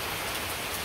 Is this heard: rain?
yes